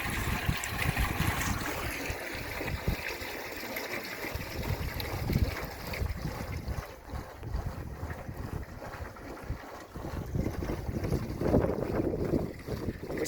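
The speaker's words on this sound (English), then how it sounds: "At least you know the pumps are working." Water pumps run steadily, pouring water into an old olive tank on a farm in Portugal, with a continuous rushing, splashing flow and wind noise over the microphone throughout.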